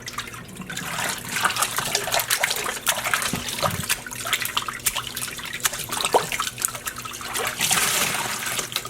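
Tap water runs and splashes steadily into a basin as dish soap is added for rinsing dyed yarn, a continuous close trickle with small splashes and no talk over it.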